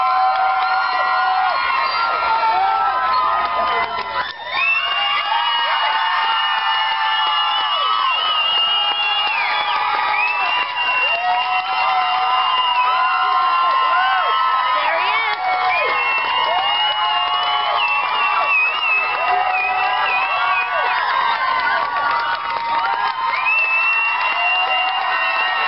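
A large, excited crowd of young fans cheers, shrieks and shouts continuously for the performer Cayden, a dense, high-pitched wall of voices that stays loud throughout with no pauses.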